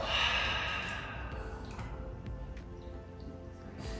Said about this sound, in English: And then slowly let it all go. Exhale.